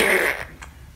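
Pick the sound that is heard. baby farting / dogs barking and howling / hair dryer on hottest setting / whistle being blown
baby farting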